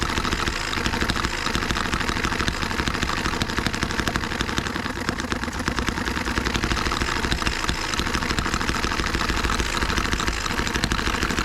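An H73 engine idles roughly after a first start, a steady, continuous mechanical chug with a knocking texture heard close up throughout, with no voices over it.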